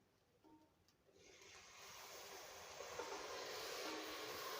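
A glass of water poured into a cooking pot of fried meat and spice masala for chana dal gosht, starting quietly and swelling after a second into a steady, loud, rushing hiss with no talk.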